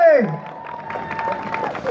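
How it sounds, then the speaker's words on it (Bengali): An audience applauds and cheers for a performer named Mayuri at a stage event, a steady wash of clapping under a brief voice at the start. "আরেকবার জোরে হাততালি চাইবো ময়ূরীর জন্যে।"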